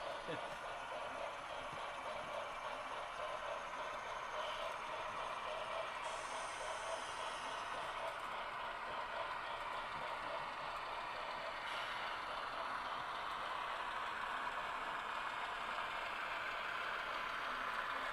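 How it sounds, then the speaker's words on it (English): Model train locomotives run on a loft layout with a faint, steady whir and soft rolling hum, continuous and distant-sounding, under a low room background. "I'm gonna stop these two locomotives while I go do that, so they don't smash into each other"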